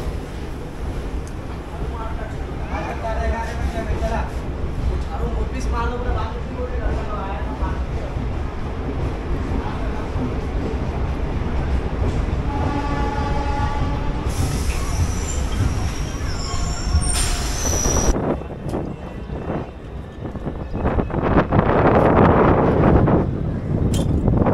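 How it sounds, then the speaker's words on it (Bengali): A train leaving Siliguri Junction, heard from on board as a continuous loud rumble and rattle of the carriages, with people talking over it and a brief high tone partway through. "3 মিনিট লেট করে আমাদের ট্রেন কিন্তু শিলিগুড়ি জংশন থেকে বেরিয়ে যাচ্ছে।"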